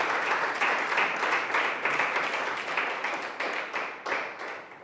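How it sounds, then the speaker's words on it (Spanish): A church congregation applauding together, a dense sustained round of clapping that holds steady for several seconds before gradually thinning out. "Démosle un aplauso al Señor"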